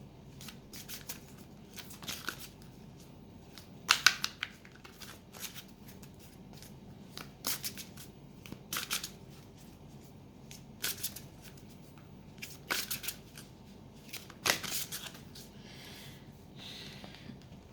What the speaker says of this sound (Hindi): और हम लोग एक ऑरेकल कार्ड्स भी लेंगे।